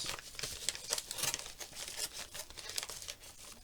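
A paper mail envelope being opened by hand, with soft bursts of crinkling and tearing close by, fairly quiet and irregular over a few seconds, with no talk.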